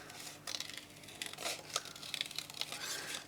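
Scissors fussy cut a sheet of 12 by 12 scrapbooking paper, giving a quiet, close run of irregular snipping, crinkling and rustling with small sharp clicks and no talk.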